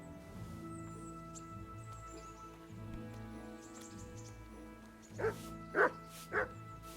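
A dog barks three times in quick succession inside the medieval-world video game Kingdom Come: Deliverance, the barks standing out sharply over a low droning game soundtrack.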